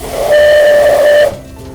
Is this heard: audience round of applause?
no